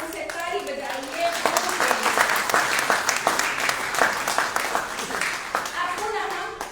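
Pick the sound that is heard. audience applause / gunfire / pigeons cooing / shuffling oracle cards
audience applause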